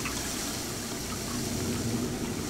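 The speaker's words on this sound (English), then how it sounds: "Turn on all the sinks." Sink taps in the video game Prey run with a steady, moderately loud stream of splashing water, continuous and unbroken, with no voices.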